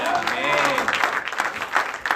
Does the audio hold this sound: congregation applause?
yes